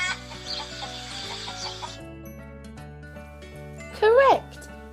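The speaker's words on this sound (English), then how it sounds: "Correct, it's the chicken." Chicken sounds play over a cheerful children's song about farm animals, with a short, loud clucking burst near the end standing out above the music.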